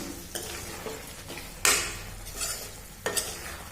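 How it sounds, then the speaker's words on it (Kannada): Cashews and paneer being stirred in a pan for a Punjabi-style cashew paneer masala, with a soft sizzle underneath and several distinct scrapes and clinks of a spoon against the pan. "ಇವೆರಡನ್ನ ಹಾಕ್ಕೊಂಡು ಇವಾಗ ಚೆನ್ನಾಗಿ ಮಿಕ್ಸ್ ಮಾಡೋಣ"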